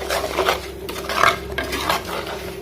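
Masala gets stirred in oil in a metal pot for karuvattu kuzhambu, with close, continuous scraping and clinking of a spoon against the pot over a soft sizzle.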